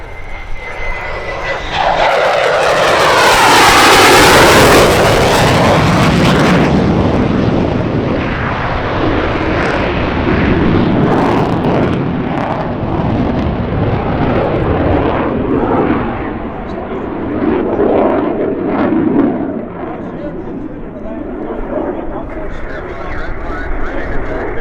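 Jet warbird roaring past at the EAA AirVenture Oshkosh airshow, a loud swelling rush with a sweeping whine that peaks early and fades into a long rumbling trail, with a voice speaking over it.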